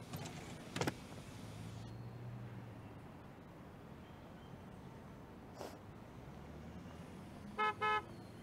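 Car horn honking in the Car Dealership Simulator video game: a short blast near the start, then two quick toots close together at the end over a quiet engine idle.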